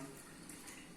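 Water streaming into a saucepan in a home kitchen while making choux pastry dough, a brief steady pouring rush with no talking.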